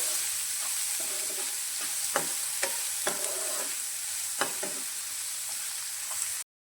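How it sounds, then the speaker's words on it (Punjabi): Sliced onions and a green chili sauté in hot oil in a pan, giving a steady close sizzle broken by several sharp scrape-and-clatter strokes of a stirring spoon. "ਇਹਦੇ ਵਿੱਚ ਆਪਾਂ ਦੋ ਬਰੀ ਕੱਟੇ ਹੋਏ ਪਿਆਜ਼ ਤੇ ਇੱਕ ਹਰੀ ਮਿਰਚ ਪਾ ਦਿੰਦੇ ਆ ਇਹਨਾਂ ਨੂੰ ਭੁੰਨ ਲੈਂਦੇ ਆ"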